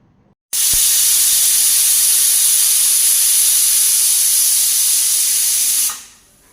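Steam blasts from a pressure cooker making tengri soup, one loud continuous hiss lasting about five seconds before fading out, close and alone.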